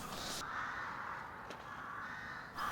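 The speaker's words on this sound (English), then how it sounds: "There's something very sinister about the sound of crows, isn't there?" A single drawn-out crow caw with a harsh, hoarse tone, fairly faint, followed by a brief second call at the end.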